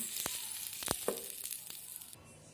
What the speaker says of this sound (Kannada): ಒಗ್ಗರಣೆ ಹಾಕ್ತಾ ಇದ್ದೀನಿ ನಾನು ಸಾಸಿವೆ ಜೀರಿಗೆ ಕರಿಬೇವು ಎಲ್ಲ ಹಾಕಿದ್ನಲ್ಲ